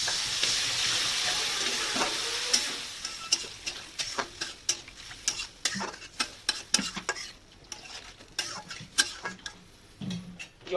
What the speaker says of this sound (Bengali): মশলাটা কষানো হয়ে গেছে, এবার দিয়ে দেবো জল।